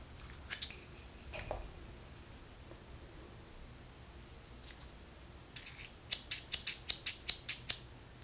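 A rapid run of about eight crisp scissor snips, close and sharp, following some quieter handling noises.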